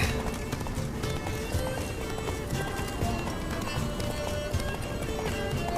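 Horse galloping in the video game The Witcher 3, a steady rapid clip-clop of hooves running continuously and fairly loud, with dense game ambience underneath and no talk over it.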